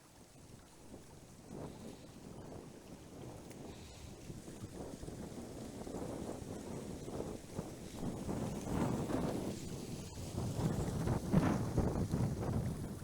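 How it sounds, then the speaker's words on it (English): Strong wind gusting outdoors during a treasure-hunting trip through brush, a continuous rushing roar that buffets the microphone and swells louder toward the end, with no talk. "I know the wind gusts are wild today."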